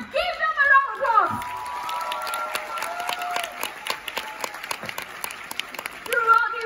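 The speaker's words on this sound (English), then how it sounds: "Give them a round of applause." Audience at a corporate recognition event applauding achievers, a moderate stretch of clapping with some cheering, with voices and music heard over it at the start and end.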